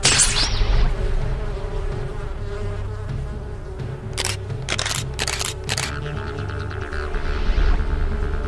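A loud, steady buzzing of bees drones throughout, close and continuous, with a few sharp clicking bursts partway through.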